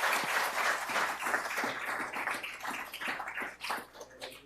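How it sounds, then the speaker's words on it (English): A town hall audience applauds the mayors, a dense, steady wash of many hands clapping that fills the room throughout and tapers slightly toward the end. "give a round of applause for our mayors that have joined us here tonight"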